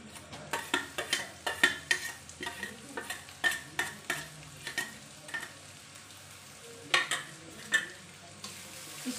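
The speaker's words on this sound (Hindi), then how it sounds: "जब तक अच्छे से भून ना जाए हमारा लहसुन प्याज, तब तक हम इसको भूनेंगे" Garlic and chopped onion frying with crackled cumin in a pan while being stirred; a quick, rhythmic scraping of the spoon against the pan repeats over a soft, steady sizzle, with no talking.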